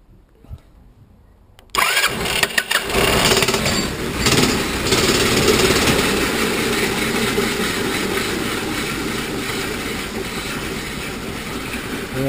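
A homemade sawmill's cold engine, fitted with a centrifugal clutch, catches after a brief quiet start and runs loud and steady with a rough mechanical drone, close by.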